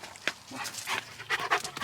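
A dog panting hard in summer heat outdoors on a walk, quick rhythmic close breaths with a few short whimpering huffs.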